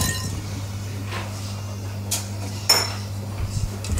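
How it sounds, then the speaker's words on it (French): A spatula scrapes and clinks against a bowl while cake batter for a bûche de Noël is folded gently into beaten egg whites, producing soft intermittent scraping with a few sharper taps over a steady low hum. "On coupe avec la maryse sans trop casser les blancs."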